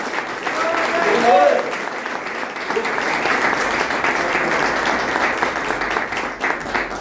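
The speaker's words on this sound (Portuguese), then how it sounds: "Quem crê, bate palmas." Congregation clapping along at an evangelical men's worship service in a church in Jardim Emburá, Parelheiros, São Paulo, a steady broad wash of many hands that carries through the whole stretch, with a voice briefly calling out over it early on.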